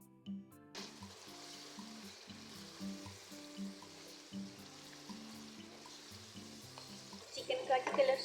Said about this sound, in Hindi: अब जी हम चिकन को अच्छे से फ्राई कर लेते हैं।